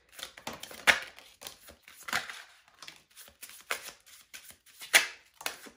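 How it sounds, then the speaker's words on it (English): A deck of tarot cards being shuffled by hand in close, crisp bursts: a series of sharp riffling flutters and slaps separated by short pauses, fairly quiet and with no talking. "do one more shuffle."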